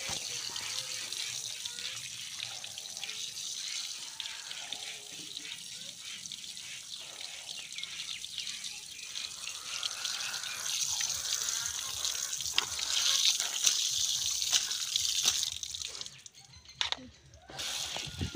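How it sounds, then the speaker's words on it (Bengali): A tap runs at an outdoor washing spot while silver carp fish are rinsed. There is a soft, steady trickle and splash with occasional drips and handling clatter near the end. The water is quiet and close. "মাছগুলোকে ধুয়ে নেব।"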